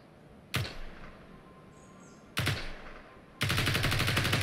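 A gun fires at energy shields in the video game Space Engineers: two sharp single shots a couple of seconds apart, then a loud, sustained rapid burst of automatic fire.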